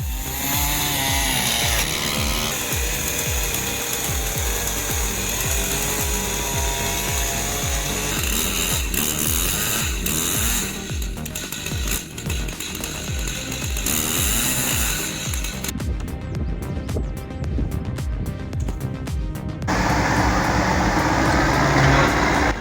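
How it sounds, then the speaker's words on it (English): An MS 880 chainsaw with a 60-inch bar cuts steadily through oak during tree felling: a loud, close, continuous engine roar with rough sawing texture that stays heavy the whole time, with no voices. "With an MS 880 and a 60-inch bar, he's carving through that oak like he's slicing out a full dining table."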